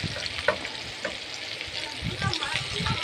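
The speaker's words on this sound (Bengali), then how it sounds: "মশলা দিয়ে দিয়ে ভাতটাকে নেড়ে নেড়ে ভাতটা ভালো করে ভেজে নেব" Cooked rice frying with spices in a pan, stirred repeatedly, giving a steady close sizzle with scraping stir strokes and a few soft clatters underneath, while a voice talks quietly over it.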